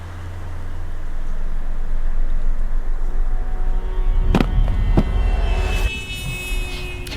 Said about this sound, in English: The car horn fading in, leading in from the sting.